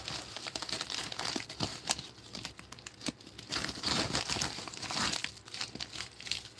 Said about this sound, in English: Gotta love these padded envelopes.